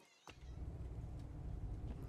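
A single short cat meow in the game No, I'm Not a Human, sounding after a brief near-silence, then fading into a low steady hum.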